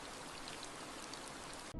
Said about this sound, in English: watching the cold rain fall as their financial lifeblood slowly bled dry